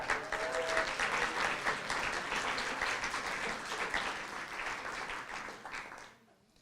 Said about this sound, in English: I didn't even have to ask you to clap for them